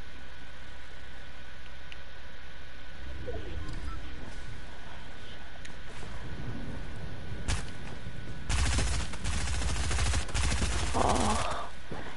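Shotgun fire in a first-person online shooter video game, a loud burst of blasts and rapid gunfire late in the stretch after quieter ambient game sounds and a single sharp shot earlier.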